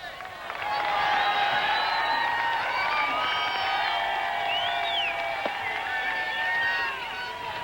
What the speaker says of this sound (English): Take a look at that crowd.